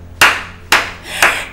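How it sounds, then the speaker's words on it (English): Three sharp hand claps spaced about half a second apart, loud and close, each with a short decaying tail, no voices. "Clap for yourselves."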